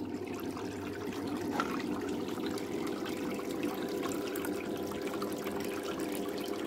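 Water running steadily through a gold sluice during a flood-season prospecting cleanup in New York, a continuous rushing, trickling wash with no breaks and no talking.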